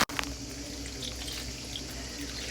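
Water is poured into a pot of washed apricots, a steady, soft splashing and trickling that runs close by and unbroken after a sharp initial knock.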